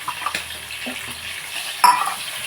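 Onion and green chillies frying in a pan for brinjal curry, with a soft continuous sizzle, light stirring taps and one sharper clink of utensil on pan near the end. No one speaks.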